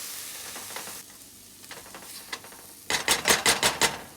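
A spoon stirs spicy tofu stew (sundubu jjigae) sizzling in a pot, with faint scraping first, then a run of loud, rhythmic stirring strokes over the bubbling sizzle.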